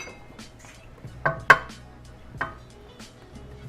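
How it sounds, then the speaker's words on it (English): Melted butter is added to a cake mixture in a bowl, producing a few clinks and knocks of utensils against the dish, with sharp taps spaced over a quiet kitchen background. "now we're ready to add in our melted butter"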